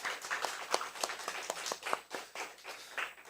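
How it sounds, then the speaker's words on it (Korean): A church congregation claps in welcome for a visiting guest, a scattered, uneven round of applause with distinct sharp claps standing out near the listener, sustained for a few seconds without talk. "오늘 오셨는데 한 박수로 환영해 주시죠"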